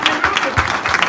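Congregation clapping hands during a church funeral service, a dense run of claps close by, loud and steady with a few voices mixed in.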